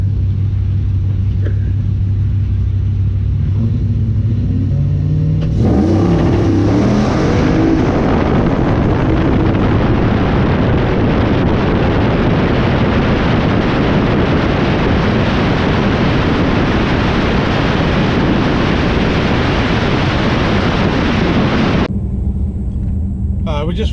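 Engine roar of a cammed Ram truck drag racing an old Mustang GT, a loud sustained rumble building from a launch and holding steady for about fifteen seconds before cutting off, close to the microphone.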